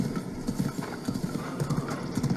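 Horse hooves clip-clopping in a quick, steady rhythm with a whinny mixed in, from the video game The Legend of Zelda: Breath of the Wild, close and moderately loud with no talk.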